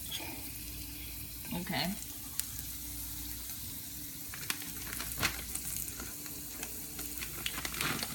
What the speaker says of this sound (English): So we're mixing your onions tomatoes with the tomatoes.